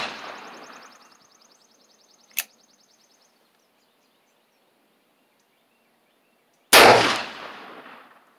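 Two sharp shots from an Uberti 1862 Pocket Police cap-and-ball revolver with a 3.5-inch barrel, a crisp crack near the start and a louder, closer blast near the end, with silence and a faint ringing between them.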